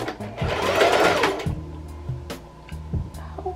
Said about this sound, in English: I'm literally just gliding with the sewing machine, following my guidelines.